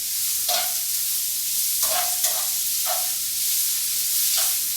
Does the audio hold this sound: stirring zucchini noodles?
yes